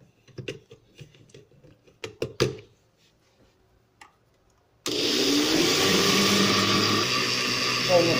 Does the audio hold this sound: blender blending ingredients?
yes